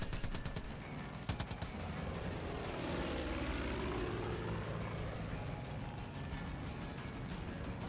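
A propeller airplane engine drones steadily in Far Cry 5 gameplay, with a dense, loud hum that shifts slightly in pitch and sharp gunfire bursts near the start.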